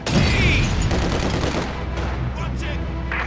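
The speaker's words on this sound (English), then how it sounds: "Incoming artillery!" Dense, continuous gunfire with machine-gun bursts and artillery booms from a Company of Heroes battle at Stalingrad, loud and sustained across the whole clip, with faint voices buried in the din.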